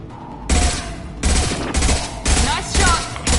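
Loud, close gunfire from the video game Mass Effect Legendary Edition rips out in several rapid automatic bursts separated by brief gaps, dominating the scene.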